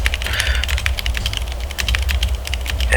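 Steady, rapid typing on an Akko mechanical keyboard with white-on-black keycaps, a dense run of close, clacky keystrokes for the whole stretch over a low background hum.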